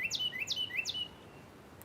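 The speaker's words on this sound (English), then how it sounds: "Birds singing" Birds sing in three quick, bright chirps in steady succession, close by, then fall quiet over a soft background hush.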